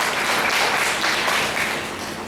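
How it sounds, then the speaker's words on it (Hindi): Sustained audience applause at a college legal awareness program certificate ceremony, a dense, even wash of many hands clapping that tapers slightly toward the end. "जोरदार तालियां कृष्णा नीना बंसल जी के लिए।"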